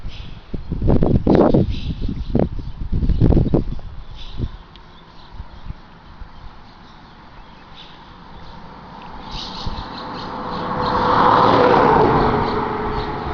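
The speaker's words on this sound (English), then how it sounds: "we're fishing real close to the state route here, so you're going to have trucks coming through" Trucks rumble past on a nearby state route by a fishing spot, followed by a quieter stretch and another engine swelling in from the distance, with some bumps and knocks up close.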